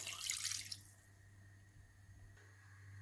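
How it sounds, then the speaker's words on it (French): Water pours into a pot of pork with red beans and chorizo, with a brief bright splash at the start that quickly fades to a quiet background with a steady low hum. "Je verse l'eau."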